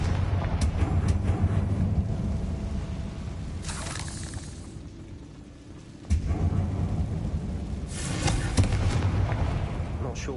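A Confringo fire-blast spell bursts in Hogwarts Legacy, a couple of booming blasts with rumbling tails over a steady background hum.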